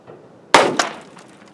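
A .410 shotgun fired from the bottom barrel gives a single sharp, loud report with a quick follow-up crack and a brief decaying tail.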